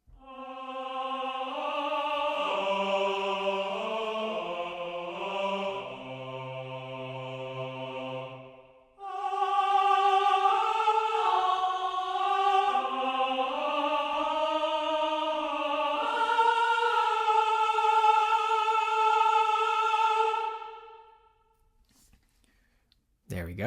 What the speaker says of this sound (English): let's hear the men as well from Metropolis Ark 1.